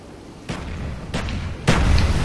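Frag grenades go off in a first-person shooter search-and-destroy match: three separate booming blasts, each a sharp burst with a low rumble, the last one the loudest and closest.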